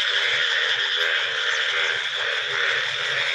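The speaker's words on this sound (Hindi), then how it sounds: "तुम देख रहे हो आवाज़ा सुन रहे हो मेंढकों की" A dense, continuous chorus of frogs croaks and trills steadily beside clear water in a village during heavy rain, loud and close, with no voices.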